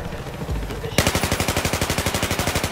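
Rapid automatic gunfire in the shooter game Battlefield 4, a loud, fast, evenly spaced burst of shots that starts abruptly after a moment of quieter game noise.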